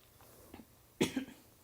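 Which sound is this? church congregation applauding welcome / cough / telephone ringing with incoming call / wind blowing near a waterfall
cough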